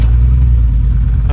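A 2000 Jeep Grand Cherokee engine idles roughly with a misfire, a loud, close low rumble with an uneven, pulsing beat over a short stretch.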